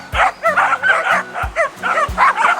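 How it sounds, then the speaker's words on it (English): Several dogs barking frantically and repeatedly at a drone overhead on a Dominican Republic beach, loud close yips and barks in quick overlapping bursts. "I've literally never seen dogs like so freaked out by drones before. They're going insane at this thing."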